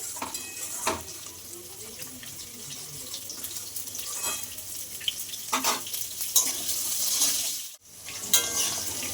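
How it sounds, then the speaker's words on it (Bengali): A steady sizzling hiss of fish frying in hot oil runs throughout, broken by occasional scraping and stirring clatter nearby. "এই পাশে মাছের তেল ভাজা হচ্ছে"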